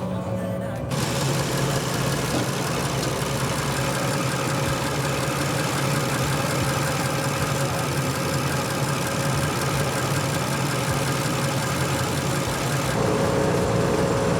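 Diesel engine of a narrow-gauge railway locomotive on the Nadwiślańska Kolejka Wąskotorowa, running steadily with a loud, continuous mid-to-low throb heard up close from the engine room, with no break for the whole stretch.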